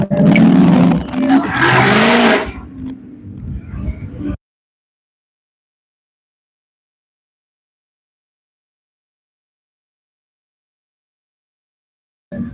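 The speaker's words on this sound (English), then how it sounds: "Sometimes when you hear those mufflers, it's a group of cars together, like buddies or a club or something, and they all do it." Loud car mufflers roaring on a street on 6th Street in Austin, Texas: a harsh, close engine blast lasting about four seconds that cuts off into silence, with a brief roar returning at the very end.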